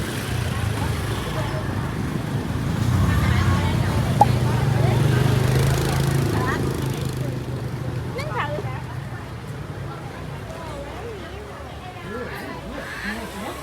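Busy street in Vietnam with cars and motor scooters passing nearby, a steady roar of engines and road noise swelling and fading, with people talking over the traffic.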